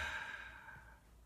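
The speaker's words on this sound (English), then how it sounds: "And exhale." One long, slow exhale of a deep breath during a calm meditation, soft and close, fading gradually toward the end with no talk.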